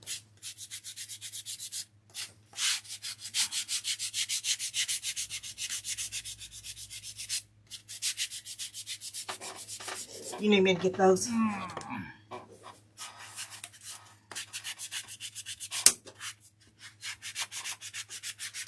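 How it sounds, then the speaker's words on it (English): Rhythmic scratchy strokes of hand sanding on a wooden sign, close by, pausing now and then while someone briefly speaks. "So I'm just sanding on mine a little bit"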